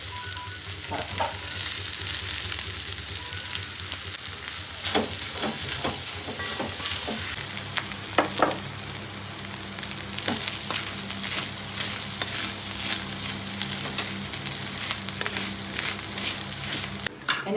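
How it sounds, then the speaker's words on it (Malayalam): Food frying in coconut oil in a pan, a continuous loud sizzle with scattered crackles and the scraping knocks of stirring, steady for the whole stretch. "വെളിച്ചെണ്ണയും കൂടി ഒഴിച്ച് നമ്മൾ വറക്കണം"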